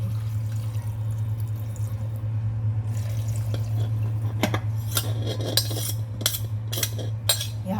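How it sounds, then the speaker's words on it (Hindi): Water poured into a glass jar of green chilli pickle made without oil, a soft trickle over steady kitchen hum, followed by several sharp, clinking splashes and taps against the glass. "और इस पानी को इस जार में मैं डाल दूँगी।"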